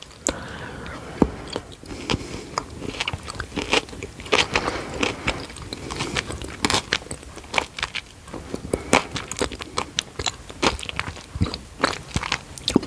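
Chocolate with toffee bits crunched and chewed close to the microphone, a dense run of sharp cracks and crackles in an irregular rhythm of bites, quiet between bursts.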